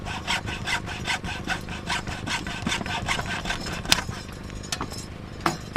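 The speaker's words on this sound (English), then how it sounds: "if I cut through these with my hacksaw" A hacksaw cuts through the wood of a garden bench in steady, rapid back-and-forth strokes, close and rasping, slowing toward a few final scrapes.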